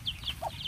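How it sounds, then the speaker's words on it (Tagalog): A native chicken gives a few soft, quick clucks close by, short faint chirpy notes in a brief moment outdoors with no talking. "Ito guys, yung sisiw. Ayan. Ayan. Yung manok na native."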